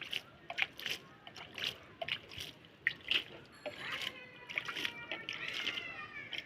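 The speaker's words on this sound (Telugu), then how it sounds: "ఇప్పుడు లైట్గా నేను వాటర్ వేస్తాను." Water is poured lightly over kitchen-waste compost in a thermocol box, giving soft, uneven splashes and trickles in short bursts, close but fairly quiet, with faint voices in the background.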